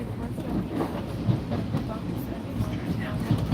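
An exo commuter train rolls along the rails between Lucien-L'Allier and LaSalle stations, heard from inside as a steady rumble with rhythmic clacks, while a person talks over it.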